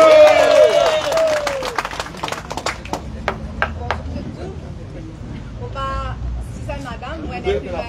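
Crowd clapping and cheering for Linda and Lindy at a peaceful street march in Rose-Hill, a burst of applause that thins into scattered claps under babble and voices.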